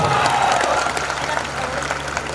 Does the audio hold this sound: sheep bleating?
no